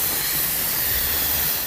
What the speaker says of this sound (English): we're gonna turn it over to a quick release.